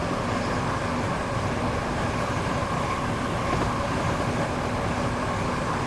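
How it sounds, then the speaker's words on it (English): A Class 465 electric train in Train Sim World 2 rolls along the track with a steady, loud, continuous rumble and rattle that fills the whole stretch without pause. "But listen to those track joint sounds."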